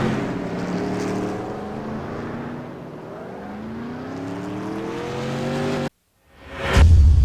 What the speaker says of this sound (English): 82 of Roberts is going to get spun out.